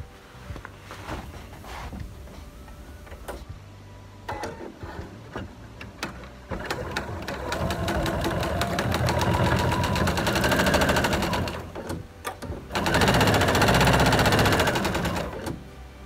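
Sewing machine stitching a placemat quilted with a Costela de Adão leaf design, running in rapid mechanical bursts of needle clatter with short pauses between runs, loud and close, with no talking.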